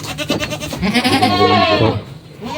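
A farm goat bleats in one long, loud, wavering call held close to the microphone, with no other sound over it.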